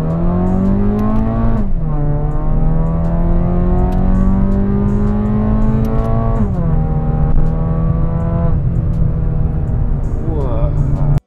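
A modified Mazda 2 fitted with a Sokudo aftermarket exhaust revs up loud and close, its engine note climbing in two or three rising pulls without talking.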